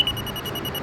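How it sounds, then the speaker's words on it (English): A homemade manual-training device for skateboarding emits a steady series of electronic beeps after being switched on to calibrate, clear and fairly close with no talking over it. "And then it beeps, and as it tilts towards where you're supposed to be, it beeps faster"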